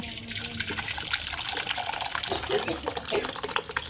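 Water is poured into cooking dal (lentils) in a home kitchen: a steady, fairly close rushing, splashing pour that lasts the whole stretch with no pause.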